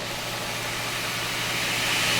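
A belt grinder runs with a loud, steady whooshing whir that builds slightly over two seconds, heard up close without any voices.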